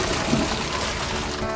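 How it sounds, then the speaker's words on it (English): Bucket of water dumped over the head while showering without running water, a loud broad gushing splash that fills the moment and holds steady. "This is how we shower. Dumping buckets of water on our heads"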